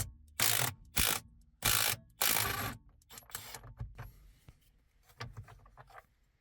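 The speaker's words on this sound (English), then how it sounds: "We're using a 21mm socket." A ratchet turns a 21mm socket while a Kia Niro clock spring is being replaced. It makes four loud, rapid clicking bursts, then quieter clicks and handling taps.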